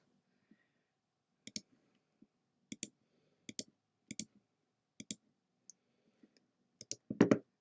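Sharp computer mouse clicks in scattered pairs and singles during digital scrapbook recoloring with a paint fill tool, close and crisp against near silence, with no talking.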